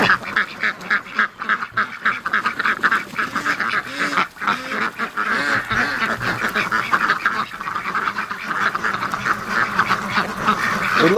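A flock of ducks quacks continuously and close by, a dense, overlapping chorus of raspy calls that carries on steadily throughout.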